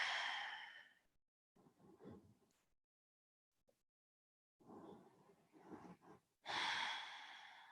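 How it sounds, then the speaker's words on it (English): A person takes slow, deep breaths during a short abs workout, with long audible inhales and exhales separated by quiet pauses, close and clear with no talking. "take a few big deep breaths right there"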